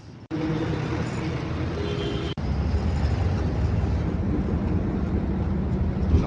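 Inside a moving city bus, a steady engine and road rumble with a broadband roar fills the cabin. Two brief dropouts break it early on, then it continues evenly and loud.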